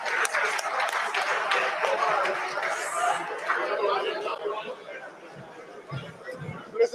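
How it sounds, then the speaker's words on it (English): An audience claps and chatters together, with a busy round of applause for a few seconds that fades into murmuring voices and scattered laughter. "There's a round of applause for our leading heroes."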